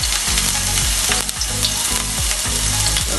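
Garlic hits hot oil for a chicken and mushroom stir-fry, giving a loud, continuous crackling sizzle broken by repeated stirring strokes, close and without talk.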